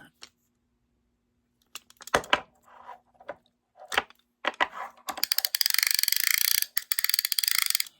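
An old Penn Senator 113H fishing reel, unused for about thirty years, gives a few scattered mechanical clicks before its clicker ratchets in a rapid, loud, close burst of clicking.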